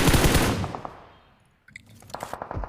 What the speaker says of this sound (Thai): ผมว่าเขายิงกันแน่นอน